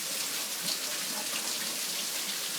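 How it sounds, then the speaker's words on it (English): Cold tap water pours steadily over freshly cooked pasta in a colander, a close, continuous hissing splash with no talk. "pour the entire amount of pasta in, and then rinse it immediately in cold water"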